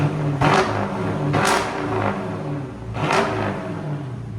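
A 2020 Jeep Grand Cherokee 5.7L HEMI V8 with X-pipe and straight pipes revs three times over a rumbling idle, each throttle blip a loud, close roar, with no talking.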